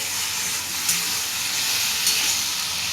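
Tomato with salt and spices frying in oil for chicken keema and pea ghugni, a steady close sizzle and hiss throughout with faint stirring touches, no voices.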